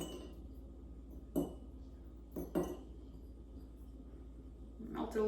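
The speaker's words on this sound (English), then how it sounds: "So what I'll do now is add some of these turmeric, like ice cubes," Turmeric ice cubes dropped into the bottom of a glass, giving two or three sharp clinks a second apart, then a softer rattle at the end, with a quiet background.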